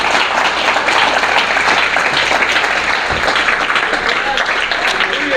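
A church congregation claps loudly and continuously in a reverberant hall, a full, even roar of applause that holds steady from start to finish with a faint voice mixed in beneath it.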